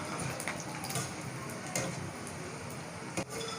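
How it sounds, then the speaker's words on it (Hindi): Namak pare dough frying in hot oil, a steady dense crackle and sizzle at an even level throughout, with a few brief sharper pops and ticks. "अभी तेल ऑयल गर्म है, अलग-अलग कर लेंगे इनको हम। ब्राउन होने तक फ्राई करेंगे"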